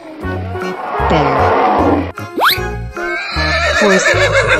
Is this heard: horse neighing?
yes